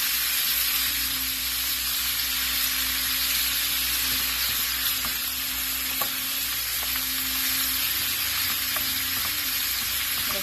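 Beef marinated in soy sauce, calamansi and a little salt sautéing with onion and garlic, making a loud, continuous close-up sizzle with a low steady hum beneath and occasional faint stirring taps, with no voices.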